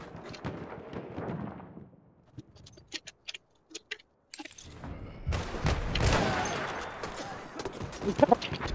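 Shotgun fire in the Battlefield 1 video game: after a fading noisy passage, a few sharp isolated cracks break a near-silence, then a loud burst of blasts and clatter erupts and continues with rapid sharp reports.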